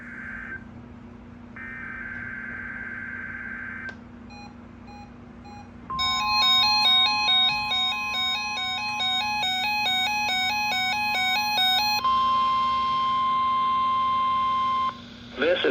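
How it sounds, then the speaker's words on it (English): A NOAA weather radio warning alarm test plays: short electronic tones, then a loud, rapid warbling two-tone attention signal lasting about six seconds, ending in a steady single tone before cutting off. "The attention signals you just heard will automatically activate special receivers to warn of the impending hazard"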